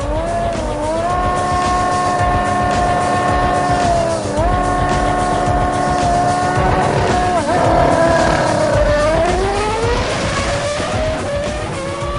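A race car launches and accelerates hard in a drag race against a motorbike, its engine rising loud and close through several sharp upshifts, with brief dips between gears and a tire squeal along the way.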